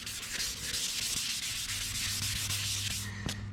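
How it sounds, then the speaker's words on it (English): Stainless steel 409 exhaust being sanded by hand with a 1000 grit pad, a steady close abrasive rubbing hiss that runs continuously with slight back-and-forth swells. "I'll hit it with this 1000 grit pad as well"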